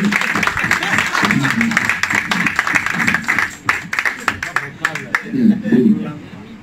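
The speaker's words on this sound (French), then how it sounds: "je vous prie d'applaudir pour sosie à Pasteur Moïse Bié" An audience claps at a live event, a steady spatter of applause that thins into scattered claps, with a voice talking loudly over it throughout.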